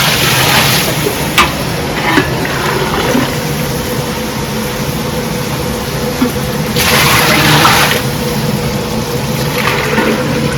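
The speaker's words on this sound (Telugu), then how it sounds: "ఇప్పుడు వాటర్ పోసేసుకుందాం" Water poured into a large cooking pot of fried vegetables and rice, a continuous rushing splash that swells louder near the end, with a few knocks and no voices.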